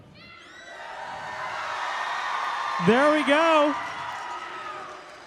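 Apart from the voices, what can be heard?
crowd of teams cheering at opening ceremony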